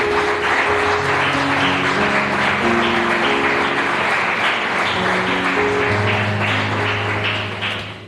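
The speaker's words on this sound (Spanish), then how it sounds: "Vamos a darle un fuerte aplauso al Señor." Loud, sustained applause from a church congregation fills the sanctuary for several seconds, with steady organ or keyboard chords sounding beneath the clapping.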